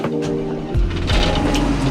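An old forestry forwarder that has sat unused for about a month cranks and tries to start. A whirring, mechanical hum is joined partway through by deeper, louder engine rumbling that continues to the end.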